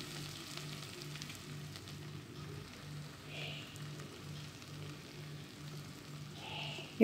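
Ginger garlic paste sizzles with onions in a pan for vegetable biryani, a steady, moderately soft frying hiss with light crackles, along with a faint rhythmic low hum in the background.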